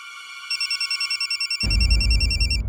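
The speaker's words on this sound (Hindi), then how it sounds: "ये तो जीत जी का फोन" A telephone rings with a rapid, trilling electronic bell in quick bursts, then a low rumbling noise cuts in as the ringing continues.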